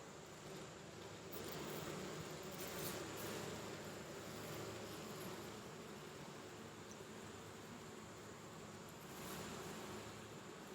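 A low, continuous buzzing hum from honey bees at a friendly open hive on a honey farm, faint and steady with a slight swell, no voices over it.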